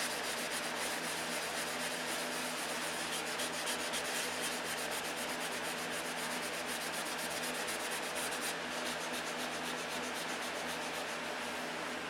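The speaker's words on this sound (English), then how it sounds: "Wet sanding's the way to go." Wet sanding with 600-grit sandpaper during an aircraft N-number repair: a steady, continuous rubbing hiss, close and even throughout, with no talking.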